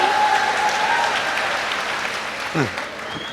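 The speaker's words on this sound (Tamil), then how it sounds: "அப்துல் கலாமுக்கு கூட அப்புறமா தான் கைத்தட்டல் வருது" An audience at a Tamil speech event claps steadily for over three seconds as a dense, even applause that fades slightly toward the end, with a voice speaking over it.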